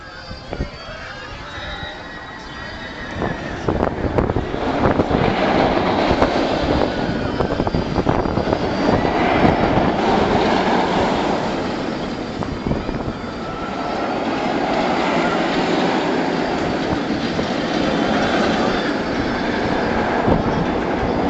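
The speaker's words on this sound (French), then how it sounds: "Il n'y a rien de tel que de se rafraîchir avec Shambhala en fond et Dragon Khan qu'on entend tourner derrière." Dragon Khan roller coaster at PortAventura rumbles continuously in the background, a broad roaring rush of wheels on track that swells and fades over about twenty seconds, with outdoor park ambience around it.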